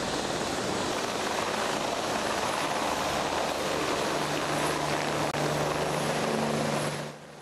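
Helicopters ferry the seriously injured to hospital after a Moscow metro train derailment, one thudding rotor droning steadily and loudly nearby before cutting off near the end.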